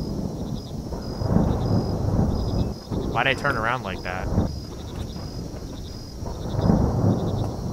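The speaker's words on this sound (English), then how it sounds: "This is a very long thunderstorm without any actual rain." Long low thunder rumbling from a dry thunderstorm with no rain, steady and distant, with insects chirping faintly and someone speaking briefly partway through.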